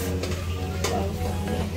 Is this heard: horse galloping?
no